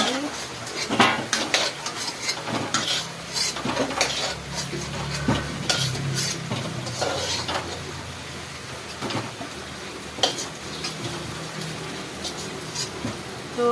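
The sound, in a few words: potatoes frying and being stirred in a pan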